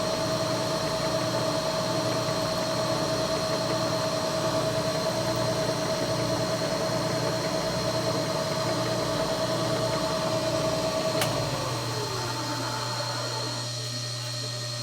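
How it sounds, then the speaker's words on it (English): A milling machine cuts out screws with a 1/16 inch end mill on a model locomotive ash pan, giving a steady loud motor hum and whine that holds throughout, then winds down near the end. "That's the last of the milling the screws out."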